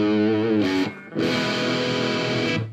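Electric guitar played through heavy distortion on a Jackson guitar, a loud growling chord that stops, then rings out again and sustains thickly to the end.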